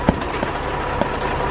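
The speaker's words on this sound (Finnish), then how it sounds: "Tossa niinku seinän takana ammutaan." Distant gunshots heard from behind a wall at an army training area: a few dull, muffled bangs spaced irregularly over a steady background rumble.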